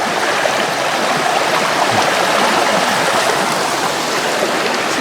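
Stream running over rocks beside the Old Timberland Road hiking trail near Champney Falls, a steady, close, full rushing wash with no pauses throughout.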